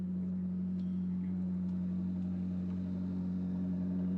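A stationary racing car idles with its motor left running in the pits at Paul Ricard, a steady low droning hum with a strong constant tone, close and unbroken, with no talk.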